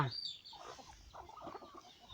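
Chickens cluck softly at evening feeding, a scatter of short, low calls mixed with light rustling, fairly close.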